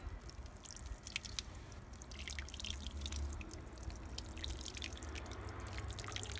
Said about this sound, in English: I'm just gonna water this.